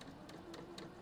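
A sewing machine at short stitch length runs a scant quarter-inch quilting seam, a quiet steady hum with rapid rhythmic needle ticks repeating about every quarter second.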